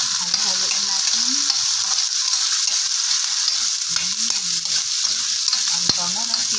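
Pork liempo with sautéed onion and garlic sizzles loudly in a pan as a utensil stirs it, a steady frying hiss broken by scraping strokes.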